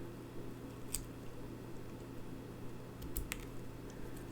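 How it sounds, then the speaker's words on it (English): A few faint, crisp snips of scissors cutting the tops off paper plant shapes for a stamped sketch card, two or three isolated cuts over a low steady hum in a quiet room. "I'm going to come in with my scissors, and I'm just going to cut off the tops of those plants."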